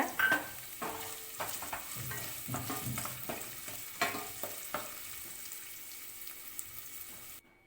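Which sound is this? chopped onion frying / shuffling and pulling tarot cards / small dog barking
chopped onion frying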